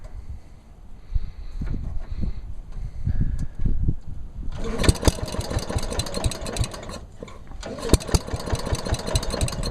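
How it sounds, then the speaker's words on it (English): A 1965 Simplicity Landlord 101 lawn tractor's small engine idles roughly, then revs up louder and steadier partway through, a continuous mechanical chugging heard up close. "I'll run the engine so you can hear just how well it runs"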